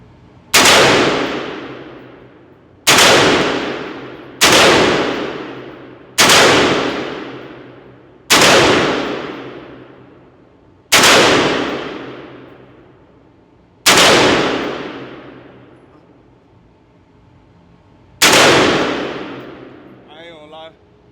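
Eight loud, close semi-automatic shots from a budget AR-15 rifle build, each sharp crack followed by a long decaying echo, spaced irregularly a couple of seconds apart with no talking between them.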